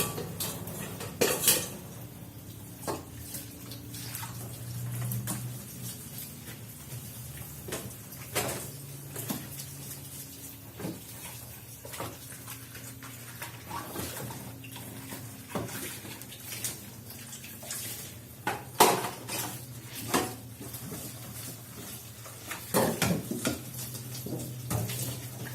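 Dishes, pots and cutlery are washed in a kitchen with running water, giving scattered clinks and clatters of metal and ceramic over a soft wash of water, with louder knocks at intervals.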